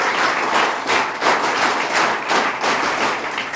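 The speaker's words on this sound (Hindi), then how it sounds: "इसके लिए भी आपने एक बार जोरदार ताली कीजिए।" A hall crowd at an environmental gathering claps loudly on request, steady dense applause pulsing in waves with no talk over it.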